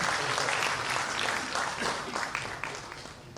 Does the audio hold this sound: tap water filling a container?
no